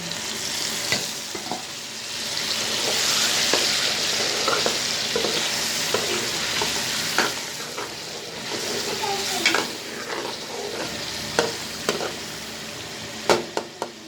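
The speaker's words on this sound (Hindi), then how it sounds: "ये अभी टमाटर की पेस्ट है मतलब हम डाल देंगे" Chicken karahi sizzles steadily in a pan as tomato paste goes in, a dense frying hiss throughout with scraping stirs and sharp utensil clinks growing louder toward the end; no one speaks.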